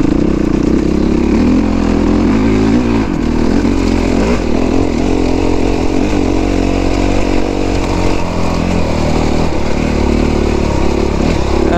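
A 450 dirt bike engine roars continuously on a trail, loud and close with fluctuating revs and wind buffeting, no talk.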